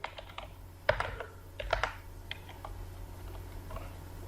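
Computer keyboard keys pressed for a Ctrl+F10 shortcut, two sharp clicks close together followed by several lighter taps, near and fairly quiet over faint background hum.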